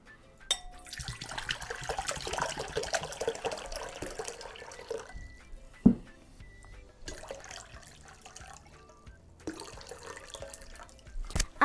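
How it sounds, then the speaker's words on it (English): Water running from a tap into a bowl while preparing hard-boiled eggs in a kitchen: a steady splashing pour that stops, then resumes in bursts, with a sharp clink midway and no voices. "now I'm going to put some water into this bowl."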